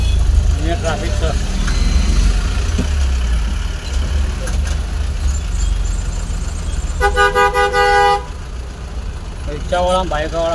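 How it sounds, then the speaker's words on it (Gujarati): Congested Gujarat town street thick with rickshaws and motorbikes, engines idling and rumbling steadily, a long loud horn blast near the end and a few more shorter toots just after, all close at hand. "રિક્ષાવાળા, બાઇકવાળા બહુ ટ્રાફિક કરાવે અહીંયા."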